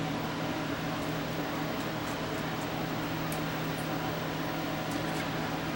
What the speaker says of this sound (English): I've just got the heat going here for a few minutes as it cooled off